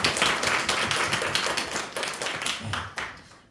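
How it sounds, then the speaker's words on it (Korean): Applause from a church congregation praising God during a sermon, a dense patter of many hands that stays steady and then thins toward the end. "우리 하나님께 다시 영광의 박수를 돌리겠습니다"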